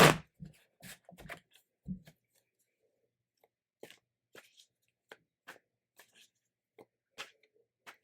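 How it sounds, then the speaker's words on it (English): Eclipticos tarot cards are shuffled by hand in quick, papery riffling bursts for the first two seconds, followed by sparse, soft card taps and slides in a quiet room. "I'm just going to shuffle these up real quick for that."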